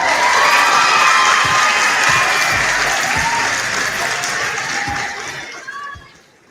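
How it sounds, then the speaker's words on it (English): A crowd applauds and cheers loudly and steadily, with some shouting mixed in, before fading out at the end. "Can I get a round of applause?"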